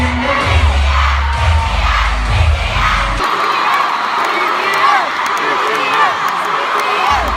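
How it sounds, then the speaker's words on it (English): A large crowd of ARMY fans screams and chants at an award show performance, a dense roaring wall of high-pitched cheering that swells and stays loud throughout, with shrieks cutting through. "So the fan chants and the screams surprised the general public."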